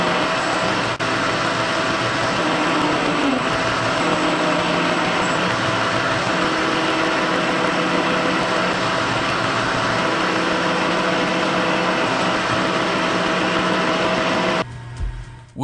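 A K&T 2HL machine tool rough turning a part's outside diameter, a steady loud broadband machining drone with a low hum running nearly unbroken, then cutting off sharply near the end.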